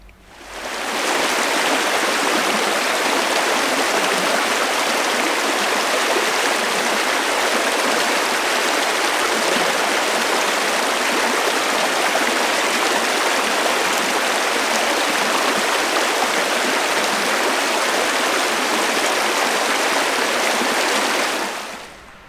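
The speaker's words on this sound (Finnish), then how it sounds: "Tämä Suomujoki on tämmöinen vähän isompi joki" The Suomujoki, a fairly large river in the Lapland wilderness, rushes and splashes steadily, a loud, continuous broadband roar of flowing water with no voices.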